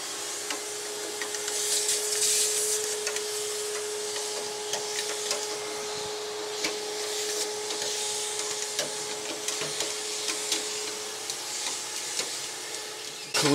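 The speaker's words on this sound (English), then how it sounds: "Clearly it's not necessary, per se, to suck the spider webs out." A vacuum cleaner runs steadily for the whole stretch, sucking spider webs out of the engine bay of a vehicle that won't start, a constant whining drone with a steady hum and small scraping bumps as the nozzle moves.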